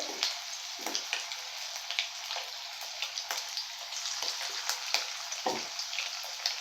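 Chicken pieces sizzle steadily in hot oil for a chilli chicken dish, a dense crackling hiss with scattered pops and spatters, close and continuous with no talking.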